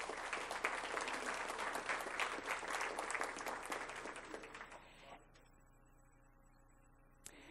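Applause at a school district board meeting honoring an award-winning high school social studies teacher, a dense steady round of clapping from the room that tapers off after about five seconds into quiet, with a sharp single clap near the end.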